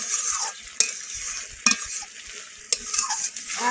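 Small mourala fish cook without water in a pan, giving a soft sizzle. Three sharp utensil clanks against the pan recur at roughly one-second intervals, along with scraping stirs.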